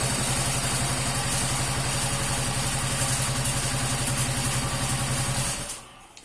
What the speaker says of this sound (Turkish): ısıtma ciltesine basmadan tek marş çalışıyor şu anda